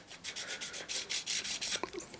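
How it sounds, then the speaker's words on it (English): Rhythmic rubbing strokes from sanding a scratch-built 8th Doctor TARDIS model flat, close and steady with repeated back-and-forth passes and no talking. "Just completely flat sanding it."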